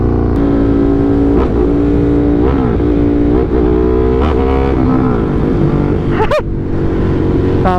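Ducati Monster SP motorcycle with a stock Termignoni exhaust, loud close-up engine idling with repeated throttle blips that rise and fall in pitch, including a sharp rev near the end.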